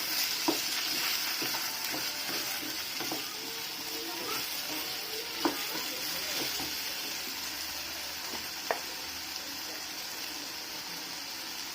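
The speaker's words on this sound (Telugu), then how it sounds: "లైట్గా దీన్ని ఇలా తిప్పుకుంటూ ఉండాలి" Food fries crisply in a pan on a home kitchen stove, a continuous bright sizzle with occasional scrapes and taps from stirring, steady and close throughout, no one speaking.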